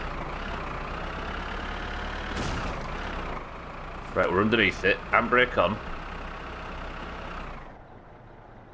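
In the video game My Summer Car, a sewage truck engine hums steadily in the background, a constant low idle under a voice speaking in short bursts, fading slightly near the end.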